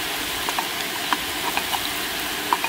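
A paste of ginger, garlic and cumin fries in a pan with a steady soft sizzle, dotted with small crackles and pops throughout.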